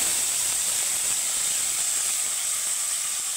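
Bay leaves and whole cumin seeds sizzle in hot oil in a pan, making a bright, continuous hiss that stays loud and unbroken from start to finish, with no talking over it.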